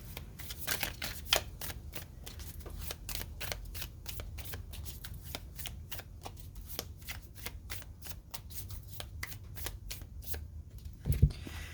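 Oracle message cards being shuffled by hand, a rapid run of crisp flicking riffles and slaps repeating steadily, close and quiet, ending with a brief tap.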